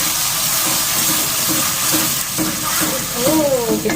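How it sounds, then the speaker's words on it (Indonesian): Sautéed spice paste and meat for daging masak habang, stirred in a pan with a loud, continuous close sizzle and scraping stirring sounds, plus a brief high squeak near the end. "Kita aduk ya sampai rata."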